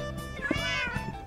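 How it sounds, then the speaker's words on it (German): Cats in the video game Minecraft meow in a short pair of close, clear calls, a brief drawn-out mew followed by a second softer one. "Außer die Katzen zu ignorieren, wie sie da mauzen."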